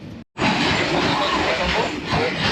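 Passenger train on the Tanzania-Zambia railway rattling along, a loud continuous rumbling clatter heard from inside after a brief dropout at the start, with no speech.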